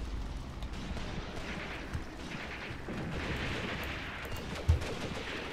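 Incendiary shots and gunfire in a WWII-era war game on the Mius Front, German defense: a continuous distant rumble of battle with scattered muffled thumps and one sharper nearby bang.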